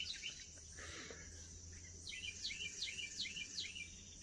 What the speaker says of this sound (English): So the birds are active this morning. Pretty nice to hear them.